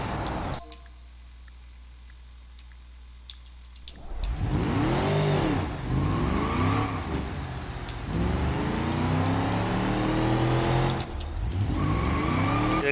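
A classic car with no rev limiter in BeamNG.drive, starting from a low hum and then revving hard with rising and falling engine sweeps, loud and close, with no talk.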